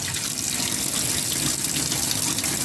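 Clean water poured into a pot for boiling a pansit-pansitan herb preparation, a steady continuous rush and splash running unbroken from start to end with no voices.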